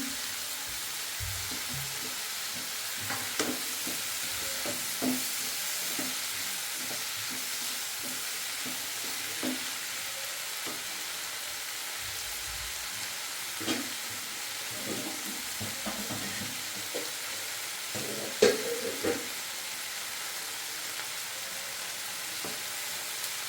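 Chopped potatoes are stirred into a pan of frying fish curry, giving a soft continuous sizzle and hiss with occasional scraping and clunking stir sounds, fairly quiet and close, with no voices.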